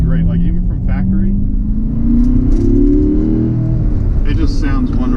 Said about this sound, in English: the exhaust on this thing is just great